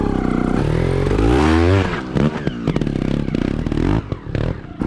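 A 2021 Sherco 300 ST factory trials motorcycle ridden through snow, its engine droning loud and close, rising in a rev, then breaking into choppier bursts with clattering.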